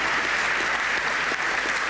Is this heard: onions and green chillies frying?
no